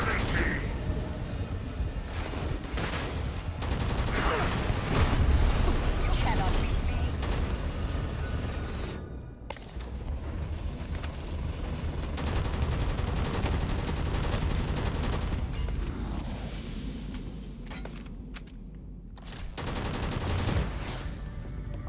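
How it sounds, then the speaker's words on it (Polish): Enemy gunfire in the space game Starfield, a dense, continuous fusillade of rapid shots and bursts that runs nearly the whole time, with brief lulls and a few heavier impacts. "Oni do mnie strzelają tymi pociskami w ogóle"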